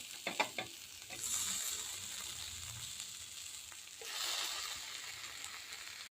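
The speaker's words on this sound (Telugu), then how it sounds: "2 సైడులు ఎర్రగా అయ్యే వరకు కాల్చాలి." Paneer tikka pieces sizzle in a pan as they are turned, opening with a few quick clacks of the utensil, then a quiet continuous frying hiss that swells again briefly toward the end.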